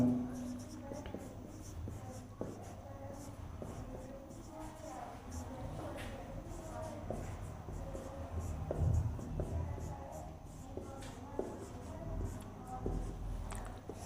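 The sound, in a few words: writing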